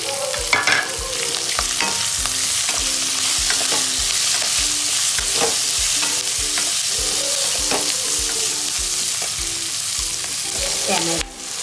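Ginger and two chopped onions frying in a pan for Kolhapuri mixed vegetables, a loud, dense, continuous sizzle with repeated clinks and scrapes of a spoon stirring, close by.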